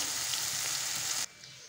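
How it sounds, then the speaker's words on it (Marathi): Capsicum, onion and tomato sauté in a hot kadhai, giving a loud, steady sizzle that cuts off abruptly near the end, with no voices. "अशा पद्धतीने मी शिमला मिरची, कांदा, टोमॅटो परतण्यासाठी कढईमध्ये टाकलेला आहे"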